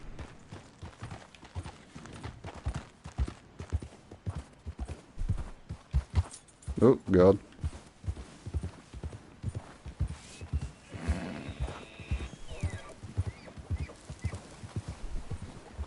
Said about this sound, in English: I don't know if I should really be bringing my horse out onto the ice